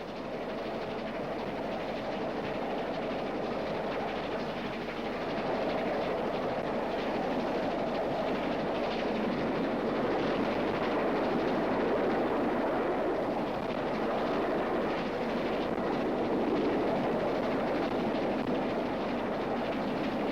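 The Bristolian, a 1950s express train booked to run at 100 miles an hour, rumbles steadily along the rails, a continuous loud roar that swells slightly midway, with no voices.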